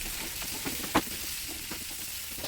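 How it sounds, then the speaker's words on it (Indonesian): Butter-fried chicken goes into a pan with fried garlic and sizzles, a steady soft hiss broken by stirring scrapes and one sharp clack near the start. "Kita masukkan ayam yang tadi sudah digoreng dengan mentega."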